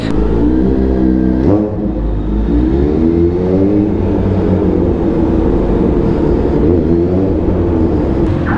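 A Kawasaki Z H2 motorcycle revs loudly and close, its engine pitch climbing and falling in several rising sweeps over a steady idle.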